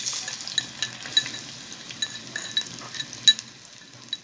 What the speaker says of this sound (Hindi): घी हमारा गर्म हो चुका है। अब हम इसमें डालेंगे 1 छोटी प्याज